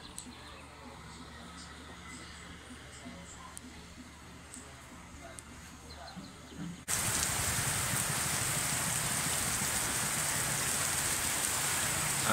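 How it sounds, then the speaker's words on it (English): Steady heavy rain falls in Lamas, Peru, starting abruptly partway through as a dense, loud hiss of drops on surfaces that replaces a quieter ambience of insects and faint background noise and then continues unbroken to the end. "And then there was rain."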